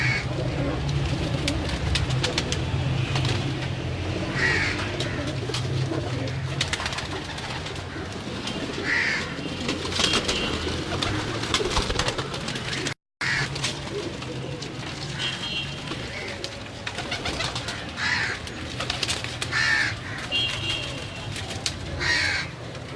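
Salara Teddy pigeons of a rare breed coo steadily among a mixed flock, with crow-like caws and other bird calls layered in a dense, continuous chorus that breaks off briefly once.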